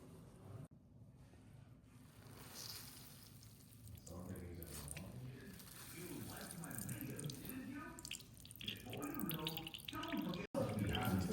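Water is squeezed by hand from grated ash gourd wrapped in cloth, making trickling, dripping and splashing into a bowl over several seconds, with a voice speaking faintly at times.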